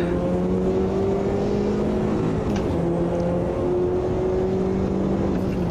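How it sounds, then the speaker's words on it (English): A race car engine in the Automobilista 2 racing game hums in a steady, continuous drone, dipping briefly midway as if blipped on a downshift, then carrying on at an even level. "Get a big blip on the downshift"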